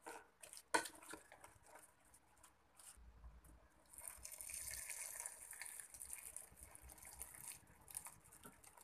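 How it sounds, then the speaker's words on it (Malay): Hot water gushes into a cooking pot of prawns and cabbage, a soft splashing pour that starts after a few quiet seconds and runs steadily to the end, faint and close, with no talking. "kita masukkan kubis dan 1 cawan air panas"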